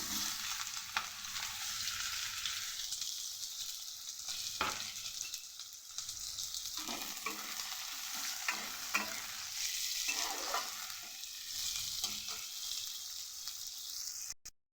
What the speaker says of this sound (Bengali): গ্যাসের ফ্লেমটা জোরে দিয়ে পেঁয়াজটাকে একটু ভেজে নেব।